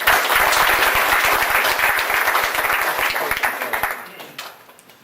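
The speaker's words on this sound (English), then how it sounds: "Please give him a round of applause." Audience applause at a June 2013 Summer Creek business community event, dense and steady clapping from a crowded room that holds strong for several seconds, then thins out and fades to a few scattered claps.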